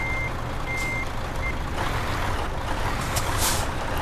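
Reversing beeps from a truck in the Euro Truck Simulator 2 game, a few short evenly pitched tones in the first second and a half over a steady low engine rumble and hiss.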